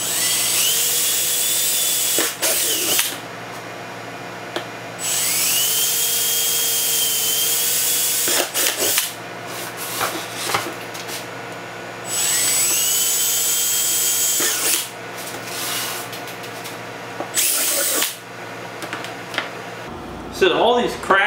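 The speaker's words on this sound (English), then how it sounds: "I'm going to attempt to drill the four mounting holes carefully." A power drill whines in several long bursts separated by short pauses, close and loud, drilling four mounting holes in a DIY drying box, with quieter handling noise between runs.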